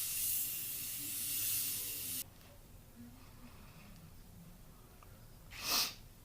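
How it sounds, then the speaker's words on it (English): A steady hiss of Morphe makeup setting spray runs for about two seconds and cuts off abruptly; after a quiet pause, a short, sharp spritz follows near the end. "I'm going to go in with my Morphe setting spray now."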